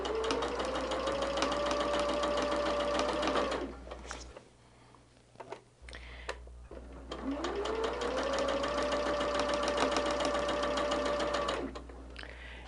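Sewing machine stitching small quilt squares, two long runs of fast, steady whirring stitches separated by a quiet pause with small handling clicks, close and clear.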